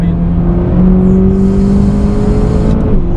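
An entry-level series sports car's engine pulls hard in fourth gear after a downshift, a loud close drone climbing steadily in pitch for about three seconds, alone without talk.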